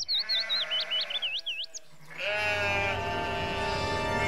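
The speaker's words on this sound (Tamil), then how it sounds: "அந்த நபர் தன்னோட ஆடுகளை மேய்ச்சிக்கிட்டு" Goats bleating while being herded, a run of wavering high-pitched calls followed by a fuller, continuous bleating chorus close by, with no talk.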